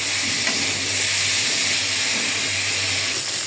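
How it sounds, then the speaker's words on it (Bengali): Potato and eggplant pieces lightly frying in oil in a pan produce a steady, bright sizzle that stays even and close throughout, with no talking. "এদিকে আলু আর বেগুন একটু হালকা করে ভেজে নিচ্ছি"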